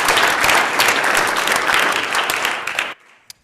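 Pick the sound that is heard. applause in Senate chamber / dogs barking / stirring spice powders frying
applause in Senate chamber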